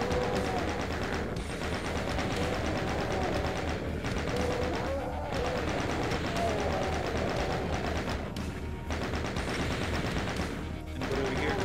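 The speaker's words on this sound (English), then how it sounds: "Chain gun." Chain gun firing in the classic shooter Doom, a steady rapid stream of shots hammering on at loud volume with short pauses between bursts, a voice talking over parts of it.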